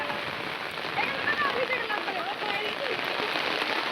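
Heavy rain pours steadily over an outdoor crowd at a Bengali Durga immersion ceremony, a dense continuous hiss with faint voices in the background.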